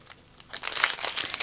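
Plastic bag holding glitter coating for a diamond art kit, crinkling close up in a short run of soft rustles that grow louder halfway through.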